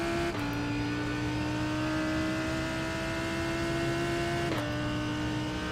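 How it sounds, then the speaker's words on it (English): A high-revving race car engine in a Silverstone sim-racing video game drones steadily, pitch dipping sharply at two gear shifts, loud and continuous with no talking. "This car sounds amazing, doesn't it?"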